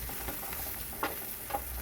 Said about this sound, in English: now I'm going to fry all the red onion first.